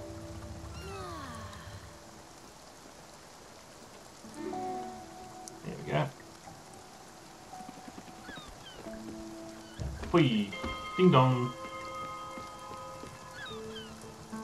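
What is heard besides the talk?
continuous rain in video game Spiritfarer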